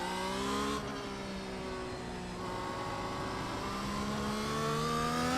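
Formula 1 car racing around Interlagos in the iRacing sim, its engine howling loud and close with sustained high-pitched revs that rise steadily, dip on a gear change, then climb again, with no voices over it.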